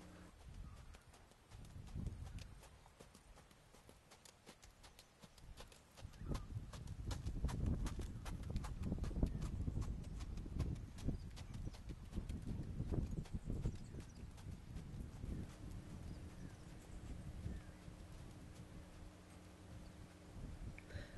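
A young horse named Jataro trots under a rider on an early ride, a steady clip-clop of hooves rising and falling in loudness at moderate distance, with faint talk now and then.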